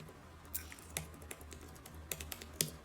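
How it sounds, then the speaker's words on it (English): Someone types quickly on a computer keyboard, close by. The keystrokes come in quick, uneven clusters with a few sharper, louder taps, over faint low background hum, and no one speaks. "I'm typing on my computer as we speak"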